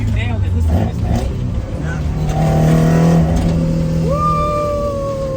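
A 20-valve Toyota AE86 engine revs loudly while the car drives, with a rising rasp and howl near and continuous; a voice cheers briefly partway through.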